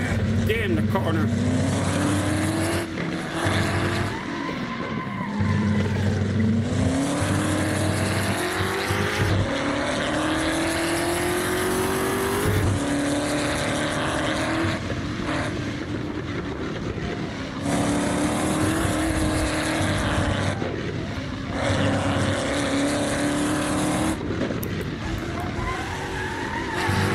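American muscle car in the Assetto Corsa racing game roars hard through corners while drifting, engine revving up and down with tire squeal, loud and continuous, with someone talking over it.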